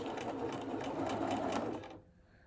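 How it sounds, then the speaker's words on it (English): A sewing machine stitches a fabric mask with a steady, close, continuous whir of rapid needle strokes. The whir stops near the end, leaving near-silence. "I'm gonna lower my presser foot at the top, lower my needle, stitch a couple, then back stitch"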